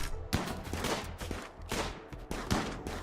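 Colonists shoot in the video game Rimworld: fairly faint gunshots crack out roughly once a second over a steady low rumble of combat.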